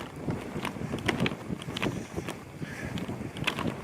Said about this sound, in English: It's a bit breezy up there,